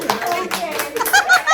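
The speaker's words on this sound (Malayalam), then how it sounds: "റാപ്പ് അപ്പ് എല്ലാരും കൈയടിക്കോ" A family claps their hands together at the close of a playful interview with a grandmother at home, a short burst of scattered, fairly loud applause mixed with voices talking.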